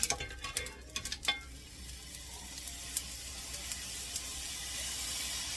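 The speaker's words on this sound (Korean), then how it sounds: "멸치가 고슬고슬하게 이제 볶아졌으면 올리고당을 넣겠습니다" Anchovies are stir-fried in a pan with a soft, steady sizzle. A few scraping stirs land early on, then the frying settles into a quiet, continuous hiss.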